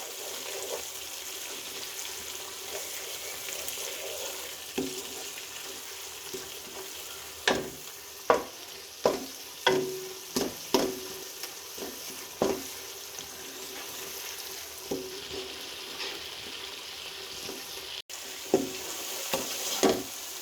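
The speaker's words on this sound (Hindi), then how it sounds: "अब हम इन तमाम मसालों की 6 मिनट तक भुनाई करेंगे।" Spices for a beef kofta curry are stirred as they fry in a pan, with a steady low sizzle and a run of sharp spoon scrapes and knocks through the middle, all fairly close with no talking.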